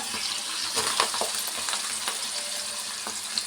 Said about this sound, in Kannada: ಫ್ರೈ ಮಾಡಿಕೊಂಡ್ರೆ ಸಾಕು ನೋಡಿ ಈರುಳ್ಳಿ ಸೇರಿಸ್ತಾ ಇದ್ದೀನಿ ಈಗ